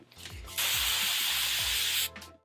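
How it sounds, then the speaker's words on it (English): Hairspray hissing steadily from a can onto a styled human hair wig for about a second and a half, loud and close, with soft handling sounds before and after. "spray it!"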